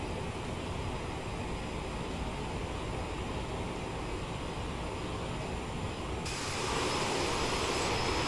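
Constant broadband roar of CRJ7 jet engines in Microsoft Flight Simulator as the throttles are eased back, a steady wash of engine noise that swells slightly near the end.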